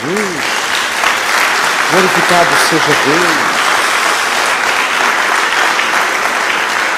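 A church congregation applauds steadily for the whole stretch, a dense, loud wash of clapping, while a preacher's voice rises briefly over it.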